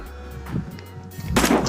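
A hunting rifle fires at a deer in the mobile game American Marksman, one sharp, loud shot that cracks out near the end after a quiet stretch with a low thump.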